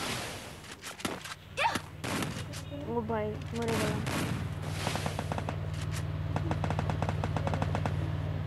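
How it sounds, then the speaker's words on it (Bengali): Rapid bursts of gunfire ring out in a shooting video game, with repeated machine-gun volleys and scattered single shots over a steady hum while a player talks. "আমার কাছে সাইলেন্সার আছে আমি এখন গুলি করতে পারি"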